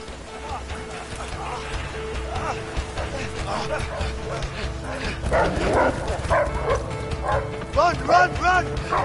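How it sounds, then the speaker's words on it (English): Hounds barking and yipping in a chase sequence from the video game A Way Out, a busy, fairly loud stretch of dog noise mixed with running and game sounds, with people talking over it. "Fucking dogs!"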